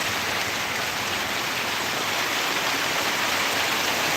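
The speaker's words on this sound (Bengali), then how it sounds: "এরকম ভারী বৃষ্টিতে রেনকোট কাজে দেয় না" Heavy rain pours down onto a flooded road in a dense, steady roar that stays loud and constant throughout, with no voices.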